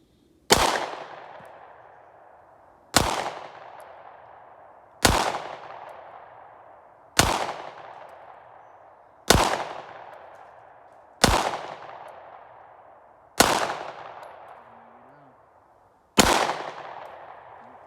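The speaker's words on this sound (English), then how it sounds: "So now we're gonna shoot a little distance, 25 yards. I got the Gen 4 with me" A Glock 19 Gen 4 pistol fired at an outdoor range toward a 25-yard target, eight sharp loud shots spaced about two seconds apart, each with a ringing decaying echo, no talking.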